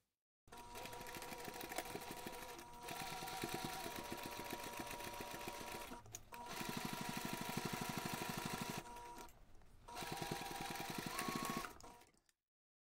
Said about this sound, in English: Then you can take this to the machine and sew the seam